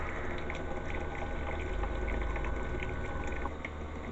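Water drains steadily from an opened plumbing valve on a travel trailer being winterized, a continuous close hiss and gurgle that holds at one level for about four seconds with no voices.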